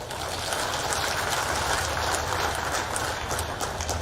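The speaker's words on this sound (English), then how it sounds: "That calls for a big round of applause." Large crowd applauding at an outdoor political rally on a playing field in Tura, Meghalaya, a loud, dense, steady roar of clapping and crowd noise lasting throughout.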